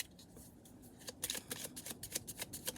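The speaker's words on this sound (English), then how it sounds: "Last shuffle for Sagittarius." Tarot cards being shuffled by hand, a quiet riffle at first that turns into a quick run of crisp, close slaps and flicks, heard alone without talk.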